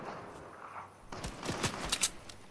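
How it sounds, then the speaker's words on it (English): Gunfire in a Fortnite match, a few sharp shots and short bursts in the second half after a quieter stretch, fairly faint and distant-sounding. "Look over there, do you see where I'm shooting at?"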